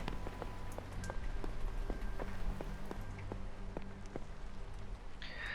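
Rain patters steadily against a window in the game Holstin, a soft, continuous drumming of drops with faint, regular ticks running underneath and no voices.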